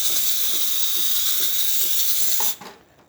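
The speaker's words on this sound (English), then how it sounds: "steam's coming out of the one." Steam hisses steadily from the steam wand of a Delonghi Magnifica coffee machine, a loud continuous jet that cuts off abruptly near the end, leaving a brief fading tail.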